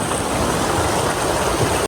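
Mountain stream water rushes steadily past on a trek in Kashmir, a loud, close, continuous broadband flow that drops out abruptly at the very end.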